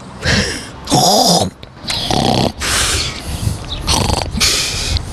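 A person snoring loudly and close, about five rough rattling breaths in a slow uneven rhythm, each followed by a short pause.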